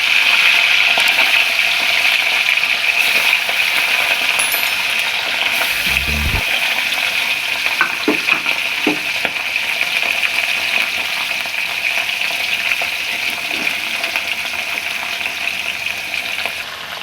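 Fish fries in hot oil, a loud, steady close-up sizzle and spatter that runs unbroken, with a few light clicks and knocks of the pan along the way.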